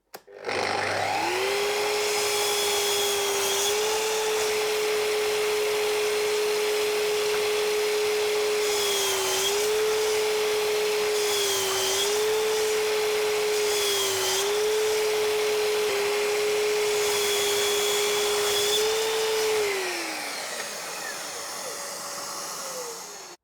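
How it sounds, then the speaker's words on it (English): A Festool Kapex 120R miter saw with dust extraction runs steadily through a series of cuts in MDF, its loud whine holding for nearly twenty seconds with brief dips at each cut before spinning down. "we'll do another half a dozen cuts in the MDF"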